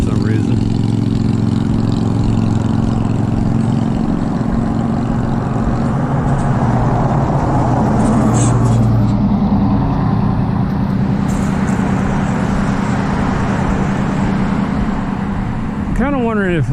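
Cars and trucks on a Dallas city street at night, with a loud, continuous engine roar and traffic rumble filling the scene close by and a rising revving sweep near the end, with a person talking over it.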